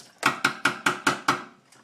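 A metal spoon clinking against a dish while scooping, six or seven evenly spaced sharp taps in quick rhythm, close and clear with no talk.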